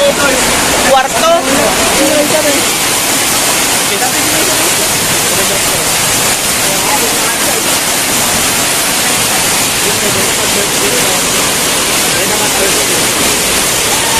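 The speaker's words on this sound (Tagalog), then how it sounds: "Yan, pumasok na yung tubig, oh." Floodwater rushing into a countryside house, a loud, continuous roaring torrent close by with a brief splashing burst near the start, with a person talking over it.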